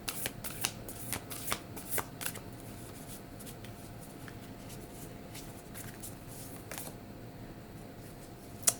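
A Goddess Power oracle card deck is shuffled in a quick run of crisp riffles and flicks, close and fairly quiet, with a soft card snap at the end.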